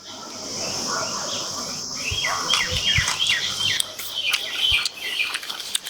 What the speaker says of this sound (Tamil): பறவைகள்லாம் பார்த்தீங்கன்னா நிறையா இருக்கு பாருங்கள் சவுண்டு கேட்குது இல்லைங்களா